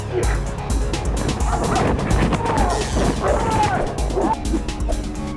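A police working dog barks and yips repeatedly during a building search, close and loud over vehicle rumble and low voices.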